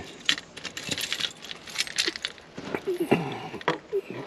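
Keys jangle close up in several quick metallic bursts while someone checks over a car after Hurricane Helene, with a faint voice in the background.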